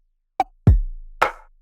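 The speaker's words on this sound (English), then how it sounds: "I'm putting all of them samples through this group which is getting distorted and bit crushed." Sampled drum hits sent through distortion and bit-crushing: a short click, a deep booming kick with a long low tail, then a crunchy, noisy snare-like hit, three loud separate strikes with no talking.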